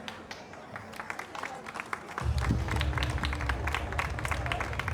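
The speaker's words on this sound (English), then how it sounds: "You clap for that" An audience at a Barbados Workers' Union May Day rally breaks into brisk applause, with dense, close hand claps that swell and are joined by a low crowd rumble partway through.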